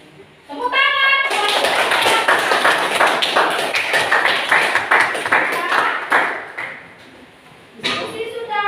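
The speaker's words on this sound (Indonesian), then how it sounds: "Tepuk tangan." A classroom of students applauds, a dense burst of many hands clapping at once that lasts several seconds and then fades. Voices are heard briefly before and after the clapping.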